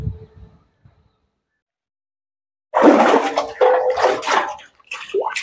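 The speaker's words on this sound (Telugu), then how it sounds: "ఇక్కడ వాటర్ వస్తుంది" Water gushes loudly and close from a tap outdoors, bursting in after a near-silent stretch and running in strong surges with a couple of brief breaks.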